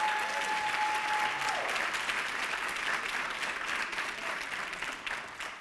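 Crowd at a master's hooding ceremony applauds engineering, technology and physical sciences graduates, a steady, even patter of many hands at moderate distance that eases slightly near the end, with a faint tone lingering early on.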